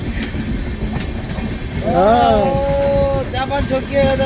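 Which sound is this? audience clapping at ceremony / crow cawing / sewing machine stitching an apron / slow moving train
slow moving train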